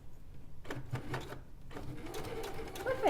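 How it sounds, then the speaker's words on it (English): A sewing machine runs a short reverse stitch on a bag, giving a continuous close mechanical whir with slight changes in speed as it moves back and forth, and some speech mixed in. "Do a little reverse stitch there."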